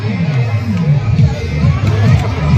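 A crowd gathered at a religious procession, a steady close hubbub of many overlapping voices with scattered louder calls throughout.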